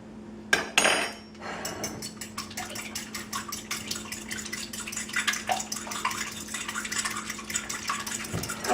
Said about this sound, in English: let's go ahead and beat them lightly with the fork